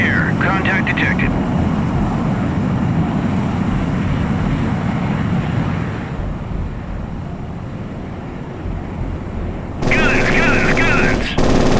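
Naval guns firing at an air contact in the naval combat game Sea Power: steady rapid gunfire and engine roar under a loud continuous battle din, dipping briefly before surging again, with voices speaking over it.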